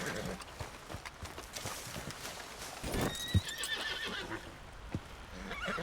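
Horses neigh and whinny in the video game Red Dead Redemption 2, with hoof clip-clops and a distant, breezy outdoor ambience; one clear whinny rises in the middle, with fainter calls later.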